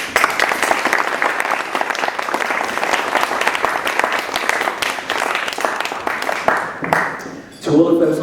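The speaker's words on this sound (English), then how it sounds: "if you'd just like to clap for the Hall staff" A seated audience claps for the Hall staff at a 2015 certificate presentation, a sustained round of applause that fades out near the end as a voice briefly cuts in.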